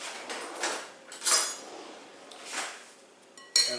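A metal spoon clinks against a dish in a kitchen, a few faint scattered taps and one brighter clink at the end, with no talk.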